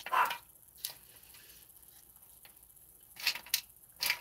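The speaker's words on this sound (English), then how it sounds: "Sorry about the dog in the background," A dog barks in the background of a quiet indoor room, with a few short sharp barks at the start and a cluster near the end, fairly faint overall.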